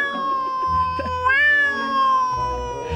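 A man imitates a cat with his voice, producing a drawn-out, wavering meow that rises and falls over about three seconds, close and fairly loud, with some background murmur.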